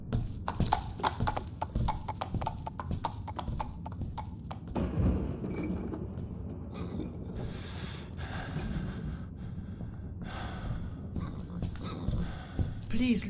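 Horse hooves clip-clop in a PC gamebook adventure, a run of sharp hoof strikes followed by snorts and whinnies, with gusty wind noise and a voice speaking in between.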